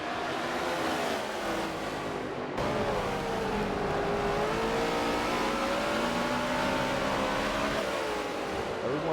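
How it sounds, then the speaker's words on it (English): Several race cars in a racing video game roar off from a rolling green-flag start at Maple Valley, engines revving steadily and climbing through the gears in a dense, continuous drone with no pauses. "Green flag is going to fly, and we are off and racing through the gears"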